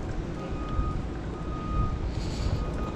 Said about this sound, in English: I hear the beeping